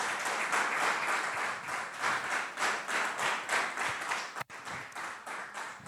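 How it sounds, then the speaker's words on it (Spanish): Church congregation applauding steadily throughout, a dense wash of clapping hands with rhythmic swells, briefly cut by a sharp drop near the end before resuming. "Dale un aplauso al Señor"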